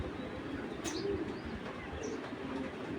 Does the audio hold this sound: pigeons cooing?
yes